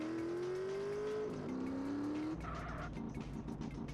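A motorcycle in GTA San Andreas revs with a rising whine during a stoppie attempt, then drops pitch and climbs again before cutting to a rough rumble with scraping and skidding noise, fairly loud and close.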